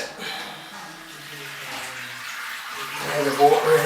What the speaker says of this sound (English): Now the water running out.